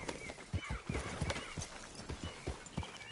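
Rhythmic clip-clop of video game horse hooves at a steady trot, fairly close, over faint ambient noise.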